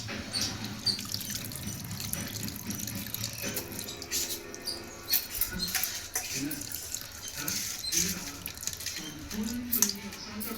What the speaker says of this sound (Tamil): இப்போ புளியை கரைச்சி ஊற்றுவோம்